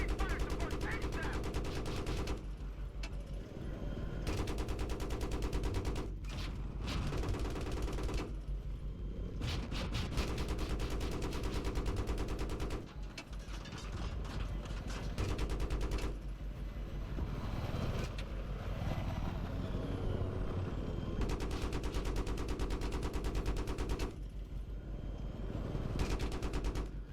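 Enemy automatic gunfire rattles across an open field in the Battlefield 3 co-op campaign. Sustained bursts of shots come at mid-distance, broken by several short pauses, with steady background rumble throughout.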